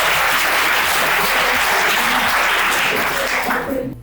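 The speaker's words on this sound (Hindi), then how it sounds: "तो अपने लिए तालियां बजाओ जरा एक बार।" Students at an inter college motivational session clap for themselves, a loud, dense burst of crowd applause that holds steady, then tapers off near the end.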